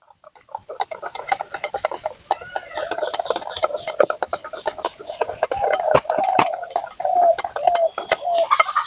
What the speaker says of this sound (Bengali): এবার এটাকে আমি খুব ভালো করে মিশিয়ে নেব